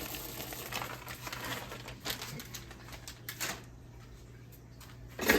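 Pecans and butterscotch chips are tossed into pie filling, making a faint, soft patter of small pieces dropping into the bowl in a few scattered bursts.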